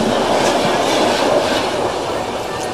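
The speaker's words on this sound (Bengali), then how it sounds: "ট্রেনটা ছেড়ে দিল অযোধ্যাধাম স্টেশন থেকে, আর আমরা বারাণসীর দিকে যাত্রা শুরু করে দিয়েছি।" An Indian passenger train running after departing Ayodhya Dham station toward Varanasi, heard from inside as a loud continuous rumble and rushing roar with no pauses.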